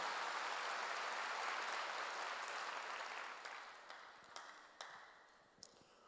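A church congregation applauding during a sermon, a quiet, hissy wash of many hands that holds steady and then tapers off, leaving a few scattered claps at the end.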